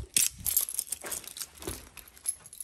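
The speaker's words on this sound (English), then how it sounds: "I'm gonna get the keys." A bunch of keys jangles and rattles close by in quick, irregular metallic bursts for a few seconds, with no talking over it.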